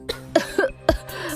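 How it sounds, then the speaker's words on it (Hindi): A woman coughs several times in quick, harsh bursts, close by, with short pauses between them. "तुम ऐसे खांस क्यों रही हो?"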